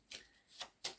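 Tarot cards being shuffled by hand: three quick, quiet papery riffling bursts spaced a fraction of a second apart, close up with no voices.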